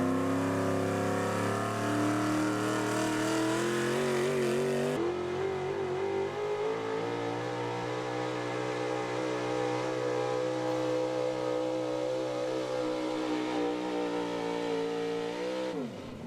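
A big-block high output 4x4 truck roars through a truck pull, its engine note loud and sustained, shifting pitch once and holding a long strained drone before easing off at the end.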